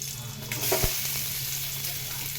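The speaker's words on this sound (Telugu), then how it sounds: "ఆయిల్ కొంచెం వేడెక్కాలండి ఉల్లిపాయలు వేసుకుందాం" Onions frying in hot oil in a pan, a steady broadband sizzle with a low hum beneath and a brief stirring clatter near the start, close and continuous.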